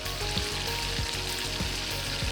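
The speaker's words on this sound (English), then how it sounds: "as soon as the butter all melted, give it like 1 minute" Butter sizzling and frying in a hot pan for a salmon dish, a steady broadband crackle with repeated soft pops, close and continuous with no talking.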